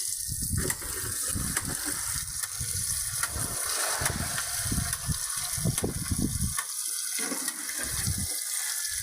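Water gushes and splashes steadily as it is poured out to rinse fish. The flow is close and loud and surges unevenly, with brief breaks, and no voice is heard.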